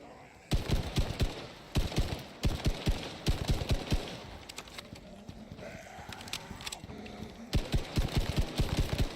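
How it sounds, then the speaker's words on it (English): Automatic rifle fire in the survival game Icarus comes in rapid bursts of sharp, close shots, several strings of rounds separated by short pauses, with creature cries and movement between them. "This is why I brought the automatic rifle."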